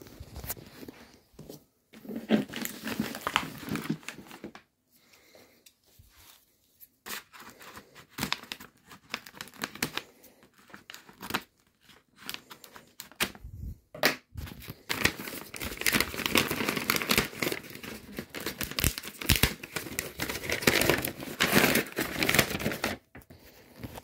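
Paper packaging on a parcel fetched from the post office is torn open and crumpled, with bursts of crinkling, ripping and rustling that come and go, pausing briefly before growing busier and louder near the end.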